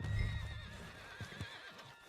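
A horse in the video game Red Dead Redemption 2 gives a short, close whinny, then a few hoof clops follow faintly under a steady background hum.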